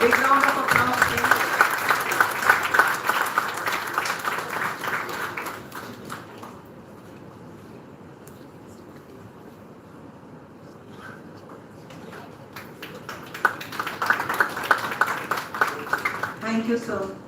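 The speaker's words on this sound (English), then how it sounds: "A big round of applause, please." An audience applauds at an academic bioethics session as a guest is honoured, the clapping loud at first, fading away through the middle, then swelling back up near the end, with a voice speaking over it.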